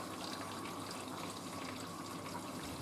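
Hot water rushes steadily into the drum of a Hoover A3060 washing machine with a faulty solenoid, a continuous even hiss and gush of filling water with no pauses.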